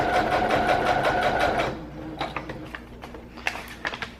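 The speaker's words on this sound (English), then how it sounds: "I'm just sewing a straight stitch down this side" A sewing machine running a straight stitch along the edge of paper for junk journal embellishments, a rapid, even mechanical chatter for about a second and a half, then stopping, followed by scattered clicks and handling noises.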